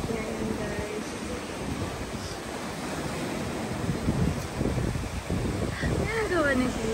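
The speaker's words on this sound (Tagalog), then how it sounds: "Yung dagat ngayon guys." Sea waves wash in a steady, broadband surge with wind buffeting the microphone, while voices talk faintly over the surf.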